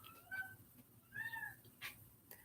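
A house cat meows two or three times, short, fairly faint calls spaced apart against a quiet indoor background, with no talk.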